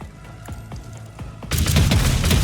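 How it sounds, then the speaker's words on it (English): Firearm shots in the Rogue Trader video game: a few spaced sharp cracks, then a dense, louder burst of rapid gunfire over the final second. "I'm going to run and gun, which means I can fire again, and I'm going to fire this way"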